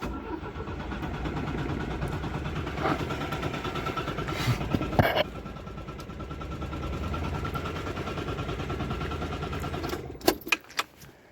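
A Citroën GS engine turned over on the ignition with the choke fitted: a long steady mechanical cranking churn, near and continuous, ending in a few sharp clunks and knocks.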